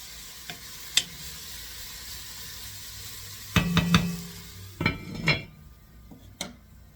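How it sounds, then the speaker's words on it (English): Eggplant sizzles quietly in a pan while a utensil stirs it, with several clusters of sharp scraping and clanking against the pan over a soft frying hiss. "So you stir them around and you'll see moisture building up in them."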